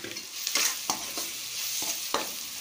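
Chili, coriander, sautéed onion and tomato are stirred in a pan for a fish curry, with a steady sizzle broken by a few sharp spatula scrapes, heard up close with no talking.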